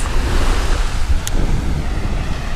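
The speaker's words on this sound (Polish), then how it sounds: "Dość duże fale są teraz." Large waves break and wash steadily onto a windy Portuguese beach, a continuous loud roar of surf with heavy wind buffeting the microphone throughout.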